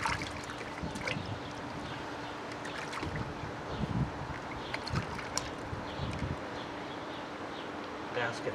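Water washes down into a pool filter basket during a backwash after the pool is opened for the season. It makes a steady, close rushing wash with small splashes and knocks throughout.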